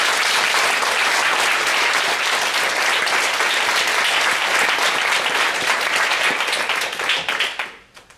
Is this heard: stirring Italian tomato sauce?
no